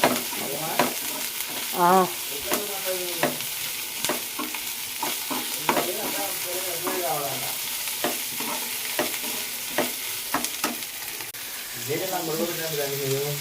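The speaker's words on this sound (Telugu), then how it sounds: "అన్నీ వేసి చక్కగా మళ్ళీ ఫ్రై చేసుకోవాలి." Golden-brown onions with ginger and green chillies fry in a pan, a steady sizzle broken by repeated scraping stir strokes, with a voice talking intermittently over the cooking.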